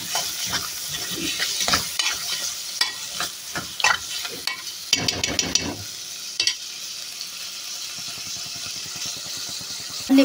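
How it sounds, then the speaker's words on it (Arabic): Liver stirred in a hot pan, a spoon scraping and clattering in irregular strokes over a steady close sizzle, with a low rumble in the background. "نقلب بقى ايه الكبده كده في كام تقليبه بس عشان ما تتهريش معاكي"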